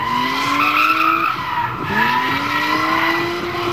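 A powerful drift car slides through a reverse corner past cones at a Latvian Drift Series competition, its engine howling and tires screeching loudly and continuously, the revs dipping briefly midway before climbing again.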